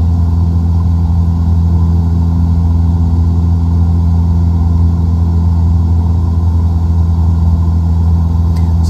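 Steady, droning propeller engine of a Cessna 172 in Microsoft Flight Simulator 2020, a constant mid-pitched hum with no breaks and no talk.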